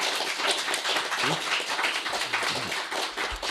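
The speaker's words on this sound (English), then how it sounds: "Let's give a big round of applause for our speakers today" An audience claps for panel speakers at a veterans history event, a moderately faint, uneven patter of hands with a few louder individual claps and a low murmur underneath.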